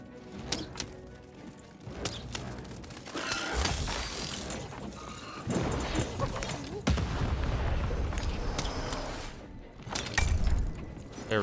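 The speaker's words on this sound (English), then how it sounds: "Shoot the button to fire the cannon." Cannon shots in the video game Lost in Random boom repeatedly amid a dense, busy mix of explosions and mechanical clatter, loud and sustained throughout.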